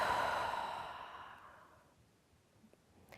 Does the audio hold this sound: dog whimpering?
no